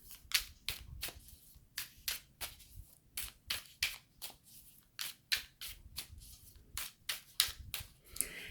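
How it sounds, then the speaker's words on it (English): Tarot cards are shuffled overhand in a quick, regular series of soft riffling slaps, about two per second, close and fairly quiet with no voice. "I scoop them up and then I overhand shuffle 7 times"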